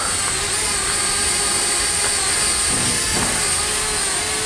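A small S105A selfie drone flies outdoors close by, giving off a steady, loud, high-pitched motor whine with a buzzing hum underneath that holds through the whole stretch.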